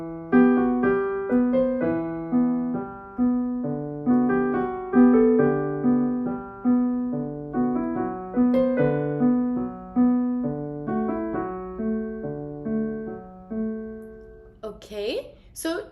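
Solo piano plays a piece from Amélie with both hands, a steady rolling left-hand pattern under a repeating right-hand melody, moderately loud and continuous, ending with a short noisy shuffle.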